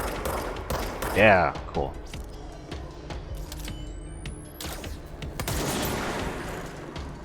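Sniper gunfire in the video game Control: a few sharp shots and bursts rise over a busy game soundscape, with a person talking briefly.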